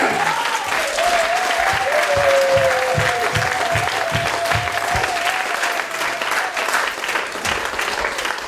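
Church congregation applauding at an Easter service, steady dense clapping filling the room, with a voice or sustained tone and some crowd noise running through it.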